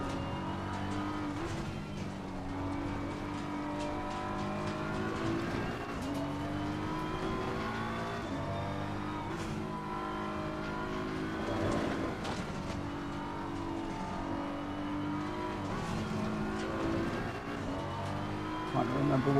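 Racing car engine in Assetto Corsa Competizione on a Nordschleife hot lap, a steady loud drone rising and falling through gear changes with a few tire squeals, a voice talking over it throughout.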